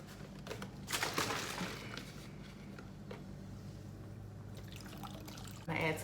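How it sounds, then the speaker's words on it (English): Coconut water is poured into a drink mix, making a soft, steady trickle of liquid at low volume that lasts several seconds, with a few faint clinks and a louder handling sound at the end. "And I'm going to add some coconut water."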